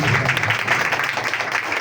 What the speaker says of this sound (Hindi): जोरदार तालियां खुदावंद यीशु के लिए